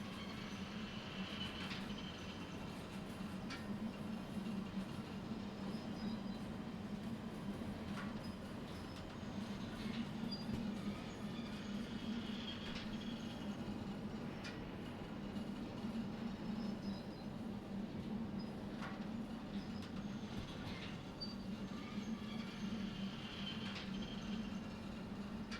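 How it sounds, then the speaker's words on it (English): Diesel train with a single locomotive hauling a long consist in the game Derail Valley, a steady low rumble and rolling rail noise throughout with faint intermittent clicks and wheel squeal, no voices. "One locomotive pulling all this consist out of here."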